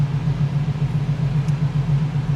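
A TVR S3 sports car engine runs at a steady idle on all cylinders, a close, even low rumble with a regular throbbing pulse and no voices.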